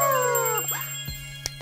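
A cartoon dog gives a short, wavering howl that slides downward, up close over a steady background hum, ending with a small click.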